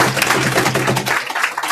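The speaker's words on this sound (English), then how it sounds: "Let's give her a round of applause." An audience claps for a speaker after a talk on the Gettysburg campaign: a dense, loud, steady patter of many hands that thins out near the end.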